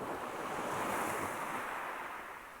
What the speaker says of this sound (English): You're sitting by the ocean.